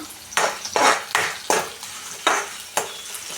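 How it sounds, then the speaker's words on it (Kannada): Green chillies roast in a pan, with about seven rhythmic stirring scrapes rising over a soft sizzle, close and fairly loud. "ನೋಡಿ ನೋಡಿ ಹಸಿಮೆಣ್ಸಿಕಾಯಿ ಯಾವ ಥರ ರೋಸ್ಟ್ ಆಗ್ತೈತೆ ಅಂತ ನೀವು ನೋಡ್ತಾ ಇರ್ಬೋದು."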